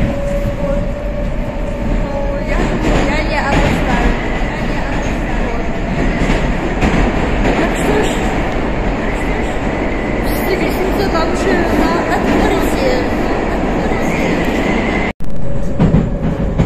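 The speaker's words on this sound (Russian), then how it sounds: "Сейчас еду в метро." Loud, steady rumble of a metro train ride in a Moscow-style underground, with clattering wheels and car noise filling the whole stretch, brief screech-like hiss and a sudden short dropout near the end.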